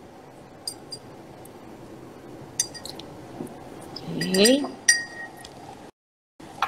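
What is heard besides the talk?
spoon clinking in a glass while pouring vinegar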